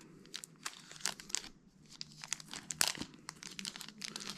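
Packaging for a Xiaomi Watch S1 smartwatch crinkles and rustles in irregular crisp bursts as it is opened up close, with no talking.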